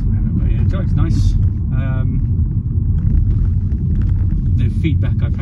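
Steady low rumble of a Volvo V40 diesel on the move, loud and constant throughout, with a voice speaking briefly over the engine drone.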